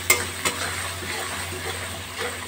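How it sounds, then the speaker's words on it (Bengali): Spices with kasuri methi are stirred for begun bahar in a pan on a low flame, a couple of sharp scrapes followed by a soft continuous sizzle and gentle stirring, close up and without speech. "এবার আমি গ্যাসের ফ্লেমটা কমিয়ে একটু নাড়াচাড়া করলাম।"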